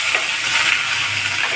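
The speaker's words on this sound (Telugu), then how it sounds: "ఇప్పుడైతే తాలింపు వేసేస్తున్నాను" Cumin seeds, curry leaves and coriander tempering in hot oil for a spiced pea and chickpea snack, giving off a loud, continuous hissing sizzle close by, with no talk.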